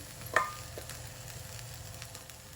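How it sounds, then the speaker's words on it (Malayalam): Pre-cooked beef hitting hot frying masala in a pan for a pepper beef roast, a brief sharp crackle as it lands, then a steady low sizzle. "നമുക്ക് ഇതിനകത്തോട്ട് നമ്മൾ വേവിച്ച് വെച്ചിരുന്ന ബീഫ് ചേർത്ത് കൊടുക്കാം."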